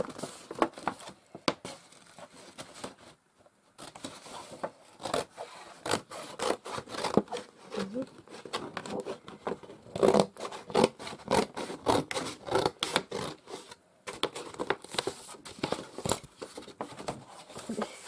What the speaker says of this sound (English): And find my scissors.